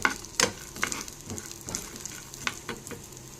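Crushed garlic and curry leaves sizzle in hot oil while being stirred for a simple snack, a steady close crackle with a few sharper pops and spatula scrapes, no talking.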